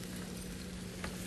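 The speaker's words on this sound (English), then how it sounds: "I'm going to add in some chopped shallots" Chopped shallots hit melted butter in a hot pan and sizzle in a steady, dense hiss that carries all the way through, with one brief stir or scrape close by.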